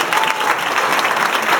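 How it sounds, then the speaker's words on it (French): A crowd gives a short, dense round of applause to martial arts competitors, steady and close throughout. "Allez, on les applaudit s'il vous plaît."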